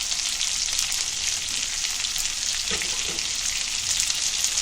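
Onion and tomato going into radish greens frying in a pan: a constant loud sizzle with soft stirring scrapes, no voices.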